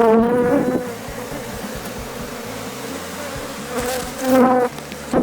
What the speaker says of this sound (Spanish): Entonces vamos a sacudir las abejas.